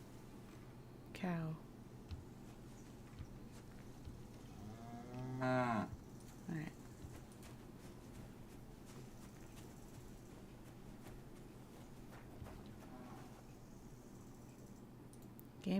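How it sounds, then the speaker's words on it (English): A cow in Kingdom Come: Deliverance II gives several moos in a quiet rural game scene, a longer low call midway between shorter ones, with a brief spoken word. "Cow."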